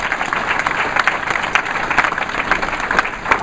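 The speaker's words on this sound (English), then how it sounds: "Give them another big round of applause." Audience claps at a mindset seminar, a loud close round of applause with individual claps standing out in an uneven rhythm over a few seconds.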